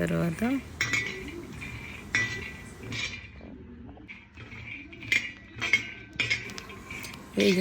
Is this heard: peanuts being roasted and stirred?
yes